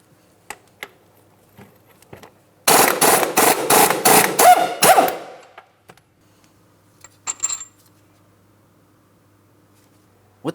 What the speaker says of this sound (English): Now we can start removing our 24mm headed mounting bolt.